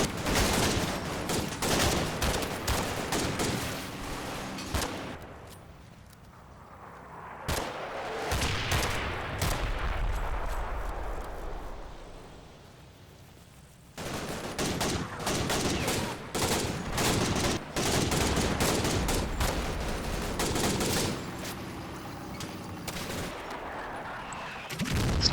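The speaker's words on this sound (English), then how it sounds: "I use as much Bren and HMG gunfire as possible to suppress." Heavy bursts of Bren and heavy machine gun fire in the video game Combat Mission fill the clip, with a brief quieter lull in the middle before sustained firing resumes, loud and dense.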